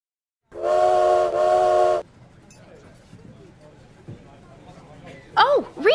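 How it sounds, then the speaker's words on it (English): A steam train's whistle blows loud and close in two long sustained blasts, followed by quieter rumbling and clatter of the moving train, with a brief high chirping burst near the end. "This train is moving quickly"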